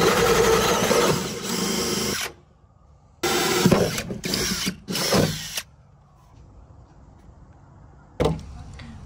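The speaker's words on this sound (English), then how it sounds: "So I'm gonna drill these last holes" A power drill whirs in several bursts of varying length while drilling holes in a solar trailer, separated by quiet pauses, close and fairly loud, with a final short burst at the end.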